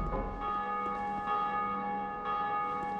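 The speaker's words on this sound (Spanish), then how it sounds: "Ah, bueno, hace sonar las campanas." Church bells ringing in the video game Dark Souls 2, sustained tolling with long ringing overtones and a couple of fresh strikes, clear and steady with no talk.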